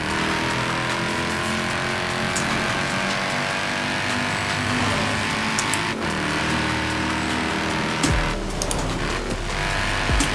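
Mercedes-Benz C63s AMG engine in Forza Horizon 4, a continuous loud buzzing drone with rising and falling revs, a brief dip around the middle and a rougher burst near the end.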